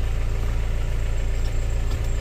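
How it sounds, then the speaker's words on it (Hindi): A car engine idles steadily just after being started, a constant low throbbing hum that stays even and fairly loud throughout with no voices. "अभी मैंने इंजन को स्टार्ट कर लिया है"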